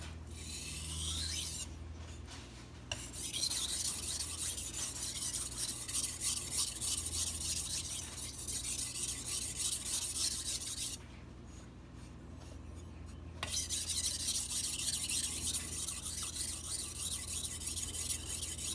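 A carbon steel Santoku knife rasps against a sharpening stone in steady rhythmic back-and-forth strokes, close and fairly quiet, with two brief pauses between runs of scraping.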